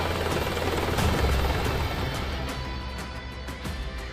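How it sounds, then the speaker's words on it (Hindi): An Apache attack helicopter flies close and loud, its rotor producing a dense, rapid thudding chop over a broad roar of turbine noise that stays steady throughout. "अपाचे हेलीकॉप्टर आसमान में करीब 280 किलोमीटर प्रति घंटे की रफ्तार से उड़ते हैं।"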